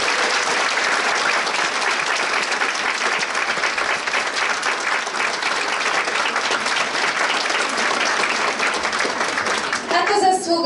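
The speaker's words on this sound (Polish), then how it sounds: "Wielkie, wielkie brawa." Sustained, dense applause from a seated audience after a performance by the youngest children's group of a folk song and dance ensemble at its anniversary concert, steady and loud throughout with a voice entering at the very end.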